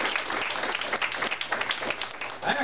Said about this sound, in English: Let's give a round of applause for our new executive director.